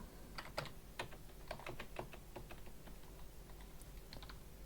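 Keystrokes on a computer keyboard as a Linux command for NVIDIA drivers is typed, a steady run of close, crisp clicks in irregular bursts with brief pauses, no voices.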